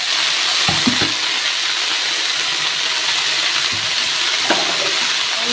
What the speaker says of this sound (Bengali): দিয়ে এবার শাকটা আমি সুন্দর করে ভেজে নেব।